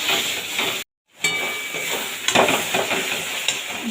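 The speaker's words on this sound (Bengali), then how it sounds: "দেখুন কি সুন্দর মশলাটা কষানো হচ্ছে" Spice masala with tomato and slit green chilies stir-fried in a pan for a lote fish dopeyaja, a close continuous sizzle with scraping stirs, cut by a moment of silence early on.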